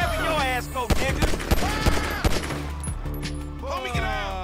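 Gunfire in the video game GTA V: rapid bursts of shots and loud individual cracks in a dense firefight, close and loud, with game music and voices underneath.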